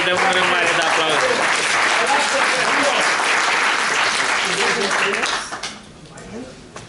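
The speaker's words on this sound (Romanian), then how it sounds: "Let's give a big hand of applause." Audience at a leadership training in Bucharest breaks into loud, sustained applause with voices mixed in, the clapping holding steady for about five seconds before thinning out and fading.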